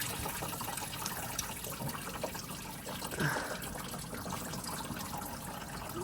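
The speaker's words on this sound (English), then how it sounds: "So this coolant is coming out accordingly." Engine coolant from a 2013–2018 Mercedes A180 W176 with an M270 engine drains from the thermostat housing into a bucket, a steady close trickling splash throughout with no talking.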